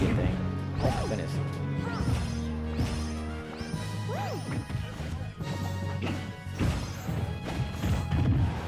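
Attack hits from a Super Smash Bros match, including Rayquaza's up-airs and up-smashes against Mewtwo and Donkey Kong, crack and thwack repeatedly amid game music and effects, under fast, excited commentary.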